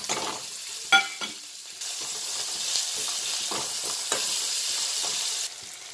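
Chopped onion sizzles in leftover oil from frying chicken, with bay leaves in the pan, giving a steady close-up hiss with stirring scrapes and a sharp clatter near the start.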